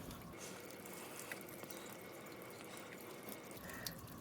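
Water poured from a small container onto a seedling flat topped with worm castings makes a soft, continuous trickling and splashing with a few faint drips, quiet and close.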